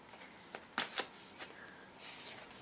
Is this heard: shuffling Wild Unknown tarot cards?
yes